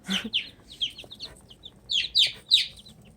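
Baby bantam chicks chirping close by, a run of about a dozen short, high peeping calls in irregular bursts with brief pauses between them and no talk.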